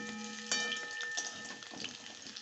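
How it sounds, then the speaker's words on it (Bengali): Small potatoes browning in hot oil in a pan, a soft steady sizzle with occasional sharp crackles and spits, close and fairly quiet. "আলুটাকে ভালো করে লাল লাল করে ভেজে নিচ্ছি"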